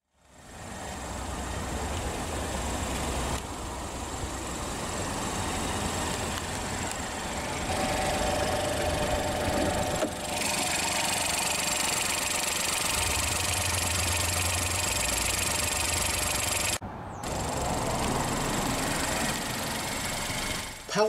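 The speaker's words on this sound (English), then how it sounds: "Powering the front-wheel drive EcoSport is the EcoBoost 1-liter dual overhead cam, 12-valve, turbocharged and intercooled inline-3 engine with direct injection." A 2018 Ford EcoSport SE with the turbocharged 1-liter EcoBoost inline-3 idles close by, a steady mid-pitched thrum with a faint ticking, holding level for about twenty seconds apart from a brief dip near the end.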